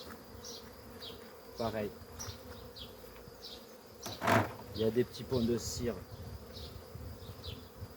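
Honeybees hum around an opened hive, with a steady buzz and passing bees swooping close at intervals while a person talks quietly nearby.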